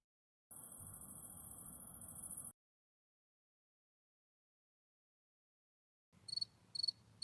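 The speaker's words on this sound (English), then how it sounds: "give me a good cricket chirp" Cricket chirps from a sound effect: a two-second burst of dense high trilling, then silence, followed by a few short, sharp, evenly spaced chirps, faint and with no one talking.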